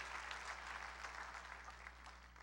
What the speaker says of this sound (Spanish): Deme un aplauso bien fuerte al Rey, por favor